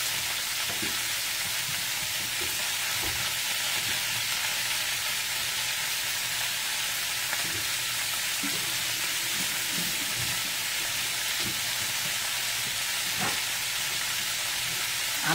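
Peppers and onions sauté in a pan over medium-low heat, giving a steady, fairly loud sizzle and frying hiss that runs throughout with occasional scrapes and clicks.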